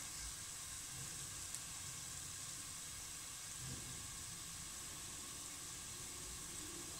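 Cumin seeds roasting in a pan sizzle with a soft, steady hiss and faint crackle that holds evenly and quietly throughout, with no voices over it.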